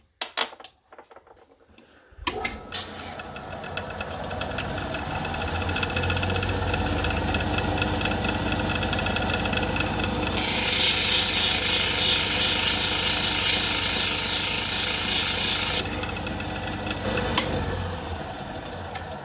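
A lapidary wheel grinds a Holley blue agate, a steady motorized whir that starts after a quiet moment and holds loud, with a brighter hissing stretch in the middle as the stone presses against the wheel.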